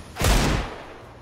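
Gunfire in Counter-Strike: Global Offensive, a short loud burst of rapid shots that rings out and fades within about a second, with no talking.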